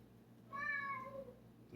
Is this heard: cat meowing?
yes